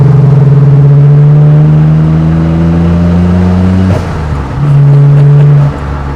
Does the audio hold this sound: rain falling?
no